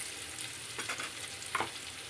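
Whole spices temper in hot oil for dum aloo, making a quiet, steady sizzle with a couple of short crackling pops from close by.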